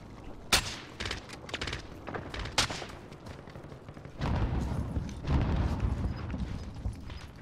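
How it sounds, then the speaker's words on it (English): Enemy sniper fire in the shooter game Warzone: sharp, loud gunshot cracks ring out sporadically, with a few standing out strongly against a rumbling backdrop of more distant gunfire. "They're shooting at me, by the way."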